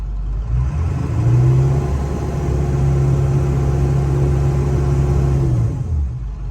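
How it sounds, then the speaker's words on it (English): A Ford 7.3 Powerstroke diesel truck engine with an exhaust leak runs close by with a steady low rumble and a faint whirring tone on top, revving slightly and then settling. "it sounds like I have an exhaust leak right in this area"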